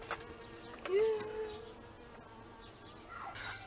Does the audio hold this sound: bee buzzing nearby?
yes